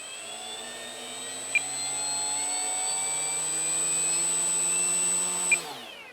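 The electric motor of an FMS Ranger 1220mm RC plane spools up gently, a smooth whining hum with rising and falling tonal harmonics, steady and close before dropping away at the end.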